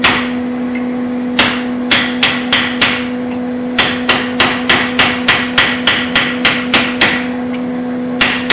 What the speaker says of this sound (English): Now we need to heat this blank up and use our hot chisel to split this jaw